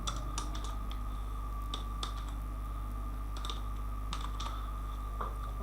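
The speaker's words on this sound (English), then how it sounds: "I will type curriculum or syllabus." Keystrokes on a computer keyboard while entering text into a blog editor: a few light, scattered clicks in short bursts at close range over a steady low hum, with no talking.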